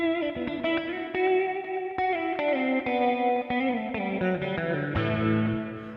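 Electric guitar played through a Nux MG-300 multi-effects unit with the expression pedal set to amp level, sustained chords ringing with chorus and reverb, changing every second or so, loud and steady with no talking.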